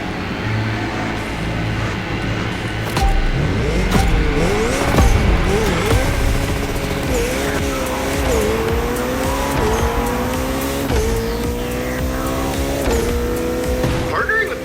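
A Lamborghini races through mountain roads in The Crew Motorfest, its engine roaring continuously and loudly as revs rise and fall through gear shifts, with tires squealing and skidding throughout.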